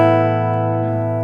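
Acoustic guitar heard through a Maton AP5 Pro pickup system with piezo at full and microphone blended in, a single sustained strummed chord ringing out and slowly decaying, clear and alone.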